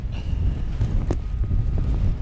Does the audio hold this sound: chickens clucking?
no